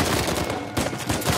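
Rapid, loud gunfire in the action game Uncharted 4: A Thief's End, a dense burst of overlapping shots with a brief gap before the firing resumes.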